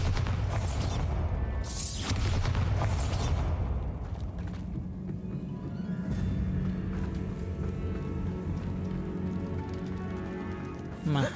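Bombarda explosion spell going off in the video game Hogwarts Legacy, with loud booming blasts and crackling debris near the start, settling into a rumbling game soundscape with music.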